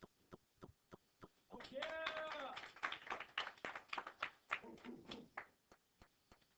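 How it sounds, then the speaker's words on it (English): Students clapping in a classroom, with a run of sharp single claps at a steady beat that swells into a brief patter of applause mixed with cheering voices, then dwindles back to scattered claps, all fairly faint. "Clap for him."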